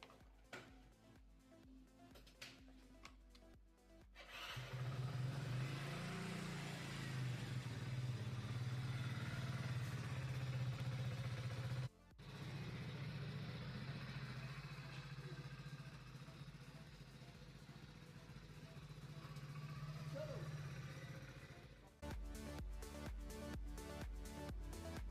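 A parked vehicle's engine starts on a cold morning and runs at a steady idle for about twenty seconds, loud and close, with a brief cut partway through and no talk over it.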